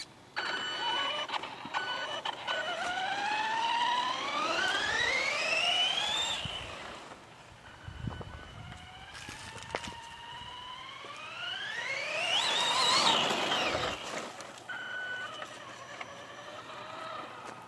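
A Mamba Max SCT Pro RC short course truck with a sensorless brushless motor whines as it accelerates, its pitch climbing steadily in two loud runs, with a brief lull and a burst of gritty tire noise between them.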